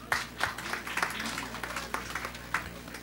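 An audience at a Korean fan club year-end event claps in short, uneven bursts, scattered hand claps coming through over a low background hum and some speech.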